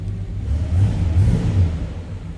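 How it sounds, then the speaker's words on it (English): A 1968 Oldsmobile Cutlass S convertible's V8 engine revs up with a deep, throaty roar, swelling in the middle and settling back to a steady low rumble. "Nice sounding car."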